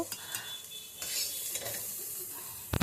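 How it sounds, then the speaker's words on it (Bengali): Whole spices fry in a pan for a katla fish kalia with kalo jeera paste, a soft continuous sizzle broken by spoon-stirring scrapes and a few sharp clinks at the end. "এই মশলা ভাজার মধ্যে একটু ধনে পাতা দেবো চলুন মশলা ভাজা হয়ে গেছে"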